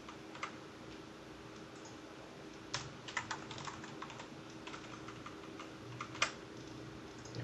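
Quiet computer keyboard typing, scattered soft key clicks and a few sharper taps coming in short bursts over a faint steady hum, with no one speaking.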